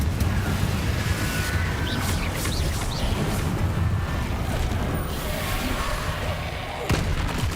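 Fire-spell blasts in the video game Hogwarts Legacy, a dense, loud, rumbling wash of explosive crackle and booms that continues without a break, layered with whooshing effects.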